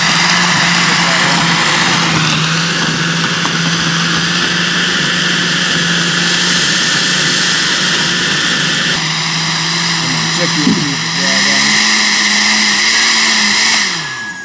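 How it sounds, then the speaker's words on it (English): An electric blender runs loud and steady for about fourteen seconds, blending sorrel juice outdoors during Christmas cooking, its motor whine shifting pitch briefly midway before settling again. "Now we'll start up a blender"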